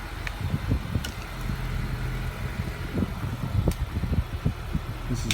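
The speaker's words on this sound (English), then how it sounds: "This is a 2017 Honda Accord Sport Special Edition." A 2017 Honda Accord Sport Special Edition idles with a low, uneven engine rumble close by, broken by soft knocks and light clicks.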